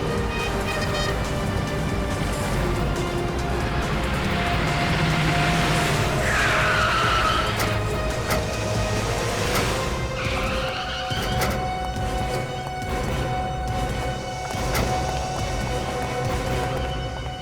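A car skids and squeals its tyres through a sharp U-turn during a chase in a jungle, with the tyre screech rising midway over a dense, loud rumble of engine and action noise; no voices.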